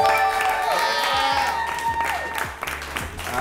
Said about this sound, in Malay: So tepukan untuk Lufa